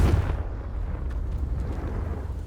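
Confringo blasting spell explosion in the Hogwarts Legacy video game, a loud deep boom at the start followed by a rumbling low-frequency tail that fades slowly over a couple of seconds.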